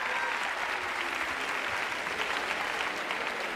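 A studio audience applauds steadily at a comedy contestant show, a dense, even wash of clapping that holds at moderate loudness for several seconds with no talk over it.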